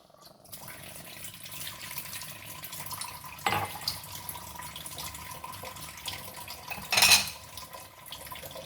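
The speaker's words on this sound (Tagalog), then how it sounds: "Lagyan natin ng konti ng tubig" Water is added to pork ribs simmering in tomato sauce in a cooking pot, heard as two brief pouring splashes over a low kitchen background.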